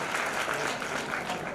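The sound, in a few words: applause at award ceremony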